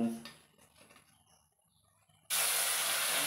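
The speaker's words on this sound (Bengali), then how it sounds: "মাছটা সুন্দরভাবে এরকম ভেজে নিতে হবে" Hilsa fish frying in hot oil, a loud, steady broadband sizzle that bursts in abruptly after a quieter stretch of faint kitchen clatter and holds close and constant to the end.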